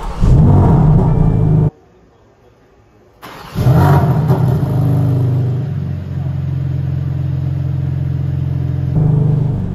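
A BMW M4 CSL, not started cold, fires up loud and close after a short silence, then settles into a steady idle rumble with a blip of revs near the end, no talking.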